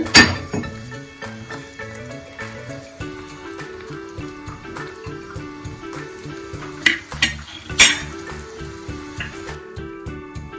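Gram flour sev is gently mixed in a pan, producing soft wet stirring and light clatter under a steady bed of background music, with a couple of louder scrapes toward the end.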